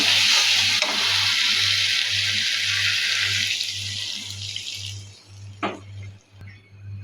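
Water is poured into a sizzling sautéed fish curry in a pan, producing a loud hissing rush that gradually fades, with a steady low hum pulsing underneath and a few clinks at the end.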